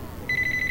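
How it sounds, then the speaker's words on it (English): A phone alarm ringtone in a video game starts suddenly and holds a steady, clear electronic tone with a pulsing rhythm, loud and close, with no voices over it. "a ringtone cuts through the silence"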